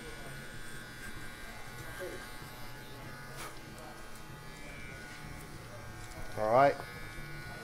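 Electric razor buzzing steadily through a head shave, a continuous close hum running under men's conversation, with a brief louder burst near the end.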